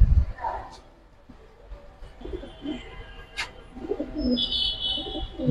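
Fancy pigeons offered for sale, including silver and Kaldam color breeds, coo softly and intermittently at close range while someone talks over them.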